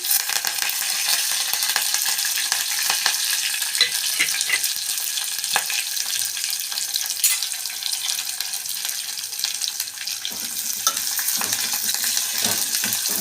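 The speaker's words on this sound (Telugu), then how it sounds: "ఇవి కాస్త నూనెలో వేగాలి" Chopped onion and curry leaves frying in hot oil in a pan, a steady dense sizzle with occasional stirring scrapes and clinks, close and loud throughout.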